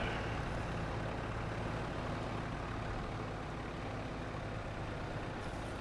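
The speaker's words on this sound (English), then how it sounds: "As my truck sinks right to the axle." Deep, continuous rumble of a SnowRunner truck engine laboring in mud, loud and steady throughout with no voices.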